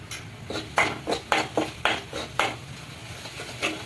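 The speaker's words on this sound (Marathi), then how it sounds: "असं चांगलं परतायचं" Pav bhaji vegetables with masala, ginger-garlic paste and oil being sautéed in a pan, a spatula scraping and knocking in a steady rhythm of close, crisp strokes.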